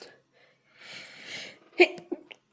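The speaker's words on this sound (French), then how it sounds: "Excusez-moi, j'ai éternué, j'ai pas eu le temps de couper la vidéo." A person sneezes indoors: a breathy inhale builds up, then a sharp close burst is followed by a smaller second snort-like exhale.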